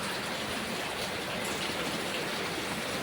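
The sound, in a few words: heavy rain at night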